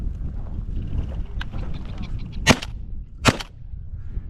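Two sharp shotgun blasts ring out about a second apart during a Hungarian partridge hunt in Montana, each a loud crack over a quieter outdoor background with faint low murmuring.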